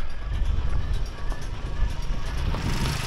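A motorcycle engine drones steadily at close range with a low rumble, mixed with wind and road noise, while riding on a road in Iran, with no voices.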